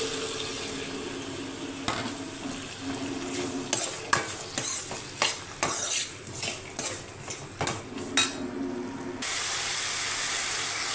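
Chana dal and potatoes frying in oil in a pan with curry leaves, stirred with a metal spoon; a steady sizzle runs under a burst of rhythmic scraping and clanking strokes, then the frying continues alone.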